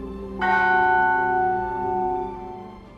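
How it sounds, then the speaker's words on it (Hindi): A single deep bell, like a church bell, rings in a Peaky Blinders scene. It is struck once and its tone hangs and slowly fades over a few seconds, with no voices. "उसी पल एक घंटी बजती है"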